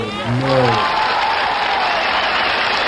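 Huge outdoor crowd at the I Have a Dream speech roaring and applauding in a broad, sustained wash of noise, with a brief tonal voice at the start.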